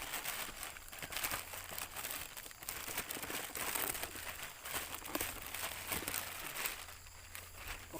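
Paper wrapping around a sprayer nozzle pump being unwrapped, with quiet continuous crinkling and rustling, close by, steady for the whole stretch with no talking.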